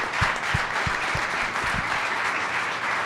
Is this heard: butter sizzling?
no